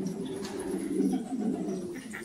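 Pigeons coo softly in a low, rolling murmur that rises and falls continuously, fairly faint against a quiet backdrop with a few light chirps above.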